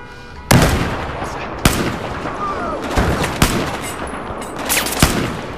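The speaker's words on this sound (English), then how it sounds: "Target down! Good shot, Becker!" Battlefield 4 gunfire on PS4: several loud, sharp shots spaced a second or so apart over a rumbling battle bed, with no voices heard.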